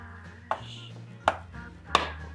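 Boiled potatoes for a quiche are smashed down in three separate soft, dull thuds spaced roughly evenly, close and fairly quiet, with a low hum underneath and no talking.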